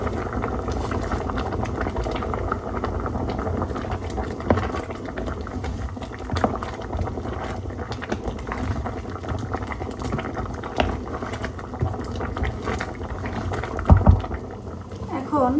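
Vegetables and oats simmering in a pot for khichuri, a continuous close bubbling and gurgling that runs throughout, with a person talking over it and a few louder pops near the end.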